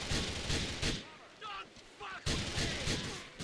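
Gunfire in the video game Grand Theft Auto 4 comes in loud, close bursts of shots with short gaps between them.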